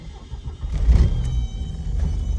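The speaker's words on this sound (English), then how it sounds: "and then just start the car." A manual-transmission car engine cranks and turns over with a low rumble, then settles into a quiet, steady idle close by.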